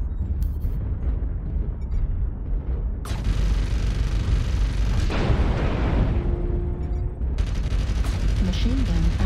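Mech machine gun fire from MechWarrior Online, with dense rapid bursts and heavy booming impacts that continue loud and near almost without pause, joined by sharper bursts toward the end.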